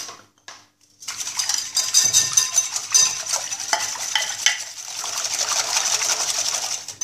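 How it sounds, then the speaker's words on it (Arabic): A spoon clinks and scrapes against a bowl while sugar and instant yeast are stirred together, quick rhythmic metallic taps and swishes close up after a short quiet start, with no talking. "راح نخلط شوية"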